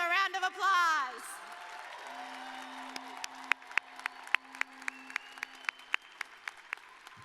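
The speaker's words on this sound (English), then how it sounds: "Let's give them a round of applause." Scattered applause from an audience at a high school graduation ceremony, sharp individual claps spreading into a light, steady round after a brief voice at the start.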